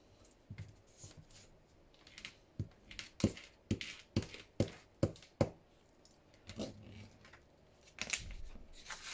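Scissors cutting around glued paper pieces for a junk journal craft, a series of close, crisp snips in a quick run in the middle with rustling paper before and after.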